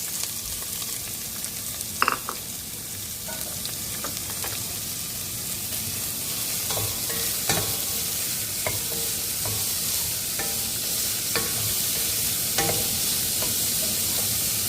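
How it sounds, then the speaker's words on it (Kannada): Sliced onion and green chilli sizzle and crackle steadily in hot oil for a Karnataka onion tomato gojju, with scattered pops and spoon-stirring scrapes throughout, close and continuous. "ಈಗ ನಾನು ಈರುಳ್ಳಿ ಮತ್ತು ಹಸಿಮೆಣಸಿನ್ಕಾಯನ್ನು ಹಾಕ್ತಾ ಇದ್ದೀನಿ."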